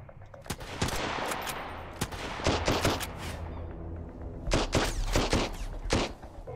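Rapid volleys of gunfire, including shotgun blasts, ring out in the survival video game Sunkenland, with clustered sharp reports and a steady background rumble, moderately loud throughout.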